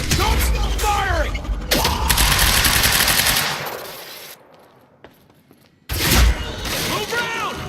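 Automatic gunfire rattles in the video game Quantum Break, dense bursts with sharp cracks and whooshing effects, dropping to near silence midway before a loud burst resumes, with a voice shouting over the shooting.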